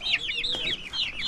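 Chickens clucking and calling on a farm in the Barot valley mountains, a steady run of close, bright, repeated clucks with no pauses across the whole stretch.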